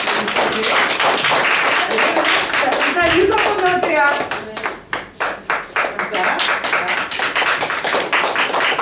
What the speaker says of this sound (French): Déjà, on les applaudit très fort